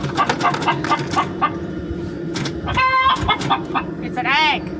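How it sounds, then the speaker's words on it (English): A hen clucks and cackles in a series of bright, repeated calls after laying an egg, close by, with people talking over parts of it and one rising squawk near the end. "Chicken laid an egg."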